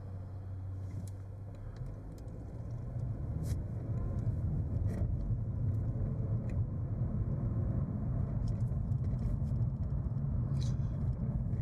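A car rolls over a rocky, bumpy road, giving a continuous low rumble inside the cabin with scattered faint knocks and rattles from the uneven surface, fairly quiet throughout.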